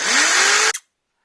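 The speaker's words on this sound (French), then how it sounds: "je perce le mur pour les chevilles" A power drill bores into a wall for wall plugs while an electrical outlet is fitted: one short, loud, close whine that rises slightly in pitch, then cuts off abruptly after under a second.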